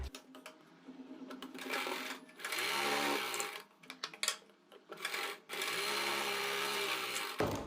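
A sewing machine stitches a western-style blouse, running in two steady motorized bursts of several seconds each with brief pauses and handling noises between them, close and fairly loud.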